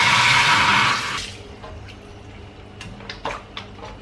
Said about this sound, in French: Et maintenant, je vais les mouiller pour le pré-trempage